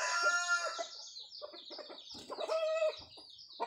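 A bird calls close by in a quick string of high chirping notes, followed by softer chattering calls.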